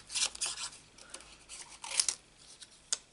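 Scissors snipping around a paper craft piece, a series of short crisp cuts and soft paper rustles, close and quiet with no talking.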